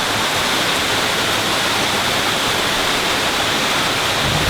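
A 100-foot waterfall in the dry season, running low rather than rushing, gives off a steady, broad wash of falling water that stays even and unbroken throughout, with no voices.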